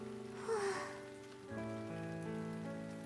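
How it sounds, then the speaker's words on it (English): Rain beats on windows from outside, a soft steady patter running under sustained musical tones, fairly quiet and continuous. "The rain continues to beat down in the windows from outside."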